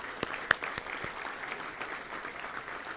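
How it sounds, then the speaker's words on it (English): Audience applause at a Little Rock Touchdown Club gathering: a steady wash of many hands clapping with a few sharper individual claps, moderately distant and continuous throughout. "Let's give them a round of applause for being here today."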